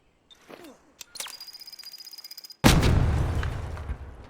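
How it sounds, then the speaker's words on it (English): A trigger grenade in Arc Raiders goes off as a sudden loud blast with a long rumbling tail, preceded by a throw, clicks and a steady rapid beeping countdown. "Now we'll test the trigger nade."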